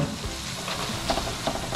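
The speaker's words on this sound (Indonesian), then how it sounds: "Jadi gorengin bawang." Shallots frying in oil in a pan while being stirred, a steady close sizzle with scattered crackles and scraping throughout.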